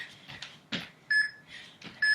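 Workout interval timer beeping during a cardio and core session: two clear high electronic beeps between brief thumps and movement noises, with no talking.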